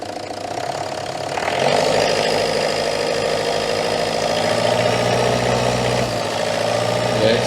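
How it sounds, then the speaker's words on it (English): Citroen Berlingo engine running rough and lumpy with its MAF sensor unplugged, a steady near idle that rises in loudness about a third of the way in and holds an uneven, knocking drone to the end. "that is not a happy engine at all"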